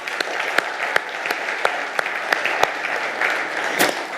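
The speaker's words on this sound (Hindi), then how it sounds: "अपने स्वागत में आप तालियां बजा लें।" An audience at the Manthan Summit 2026 claps in welcome, a dense, even wash of applause with a few sharper individual claps standing out, sustained throughout.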